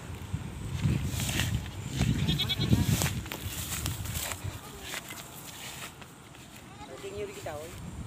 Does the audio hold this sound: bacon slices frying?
no